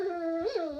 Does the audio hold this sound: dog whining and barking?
yes